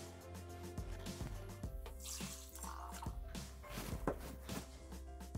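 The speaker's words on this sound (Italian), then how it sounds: "Aggiungiamo l'acqua." Water poured into a Thermomix bowl of Parmesan risotto on soft reverse stir, a steady close trickle and splash with small clinks over a low machine hum.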